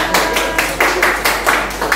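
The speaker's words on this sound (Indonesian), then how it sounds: "Beri tepuk tangan untuk kelompok 2." A school class claps together for a student group in a classroom lesson, loud close rhythmic bursts of unison clapping repeating at a steady beat.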